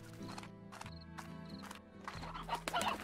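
Chickens in the Slime Rancher video game cluck in short bursts over a bright, tonal game soundtrack, fairly quiet and with no talk.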